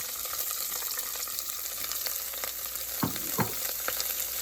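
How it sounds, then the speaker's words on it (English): White onions and serrano peppers fry in a pot for beef chili, a steady close sizzle with a few sharper scrapes of stirring near the end. "We're going to brown this and soften up the onions"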